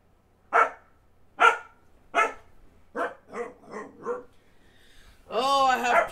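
Dogs bark in the Town of Salem video game, several sharp barks spaced about a second apart. A closer run of yips follows, then a rising whimpering whine at the end.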